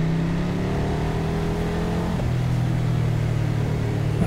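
A KTM 1190 RC8 R motorcycle on a race circuit with the throttle easing off, a loud steady engine drone that drops in pitch partway through and settles lower, heard close over wind rush without any voices.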